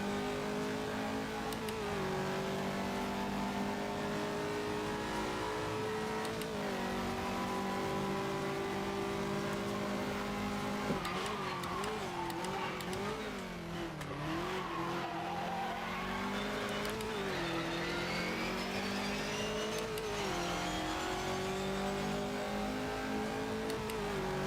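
Lada race car in rFactor 2 on a Tasmania circuit, its engine droning loud and close, pitch rising and dropping through gear changes with wavering revs and faint tyre scrubbing, no voices.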